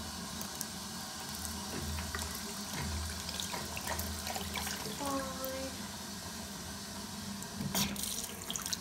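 Water runs steadily from a bathroom tap into a sink, a continuous splashing wash with a brief clunk and scrape partway through and a louder knock near the end.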